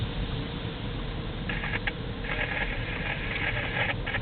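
Rain heard from inside a moving car, a steady broadband patter and road hiss that stays level throughout, with brief brighter streaks of spray or wipers over a low engine rumble.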